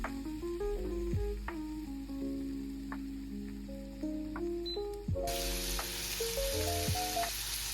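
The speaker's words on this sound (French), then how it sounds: "nous allons faire revenir les lardons et le chorizo dans une poêle" Bacon lardons and chorizo fry in a pan with a steady sizzle throughout, and a sudden louder, brighter hiss of spitting fat takes over in the second half. No one speaks.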